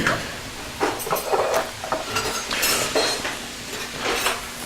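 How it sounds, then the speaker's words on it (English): Fresh berries mashed with a fork in a bowl, with repeated clinking and scraping of metal against the dish in uneven bursts, close up and with no voices. "Going to mash these berries up a little bit."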